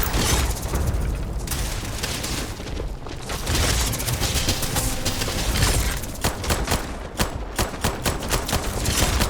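Dense bursts of gunfire in the space game Starfield, loud rapid volleys and booming shots packed close together, then sharper separate cracks toward the end, no speech.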